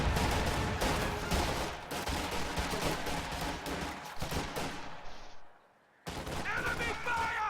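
Dense gunfire and bazooka shots fill a WWII strategy video game battle, with dense overlapping bursts and a brief drop to near silence before the shooting returns, under voices.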